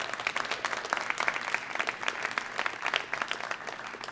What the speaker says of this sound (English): can I get a round of applause for our 9 Outspoken Saturday poets